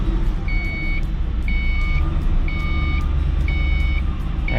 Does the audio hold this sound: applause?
no